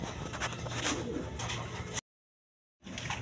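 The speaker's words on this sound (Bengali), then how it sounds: "দর্শকবৃন্দ, এখানে এক পেয়ার মাল্টিস কবুতর আছে" A big-sized pair of Maltese pigeons coo in low, steady murmurs for about two seconds, then a brief silent gap before the cooing resumes.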